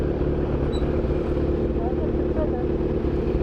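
A Kawasaki ZX10R motorcycle ridden hard through Bangalore traffic gives a steady loud engine roar with wind rush, continuous and close, while a voice talks over it.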